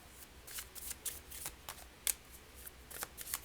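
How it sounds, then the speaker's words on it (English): A deck of tarot cards being shuffled by hand, a quiet close series of brisk riffling flutters and snaps in an uneven rhythm, no talk. "Sorry, that took a long time to shuffle."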